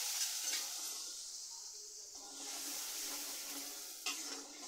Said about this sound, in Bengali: এবার আমি তেলের মধ্যে মশলাগুলো দিয়ে দিচ্ছি।